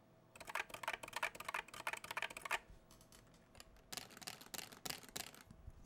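Hard plastic clicks from B0XX controller buttons fitted with hard O-rings and PBT keycaps, tapped in two quick flurries of rapid, close clatter separated by a short pause, with no talking.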